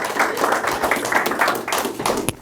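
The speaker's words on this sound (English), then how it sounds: "Round of applause for Ola." A small group claps for Ola after a talk on growing food in Hawaii, a dense patter of hand claps lasting a couple of seconds, fairly close and steady before trailing off.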